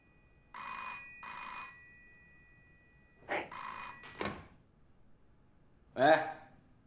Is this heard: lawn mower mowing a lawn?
no